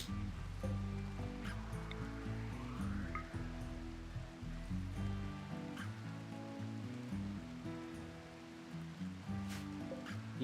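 Steady rain falling in the RimWorld colony game, a continuous soft patter layered with game music tones and occasional clicks, constant level with no speech.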